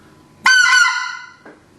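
Riceland specklebelly goose call blown by mouth, giving a loud, bright two-note honk: a hard, strong first note that trails off, then a short, softer second note.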